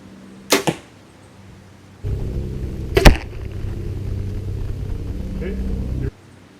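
An archery arrow with regular fletching is shot, giving a sharp close release snap and then a quick thwack a couple of seconds later, over a low background rumble.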